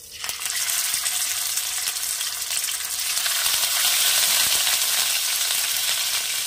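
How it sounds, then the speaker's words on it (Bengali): Boal fish fry in hot oil with a loud, steady sizzle, and a stir or shift in the pan partway through makes the crackling swell brighter and denser. "আমি মাছগুলোকে ভেজে নেব"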